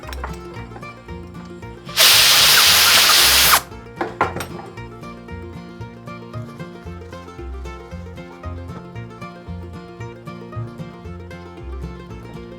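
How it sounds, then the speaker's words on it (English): A compressed air blow gun fires one loud, steady hiss of about a second and a half to blow off a freshly buffed brass token in a workshop, followed by a few knocks and light handling sounds. "Quick blow with the airline."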